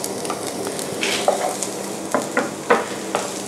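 Chopped onion sizzles in a hot pan over low heat, a steady crackling hiss broken by several scraping stirs of a utensil.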